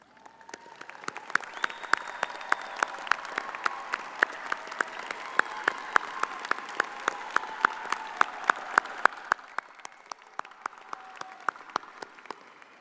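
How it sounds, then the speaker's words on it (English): Graduation ceremony audience applauding in a large commencement hall, a sustained wash of many clapping hands with sharp individual claps standing out, steady for about nine seconds before thinning and fading. "let's give them a round of applause"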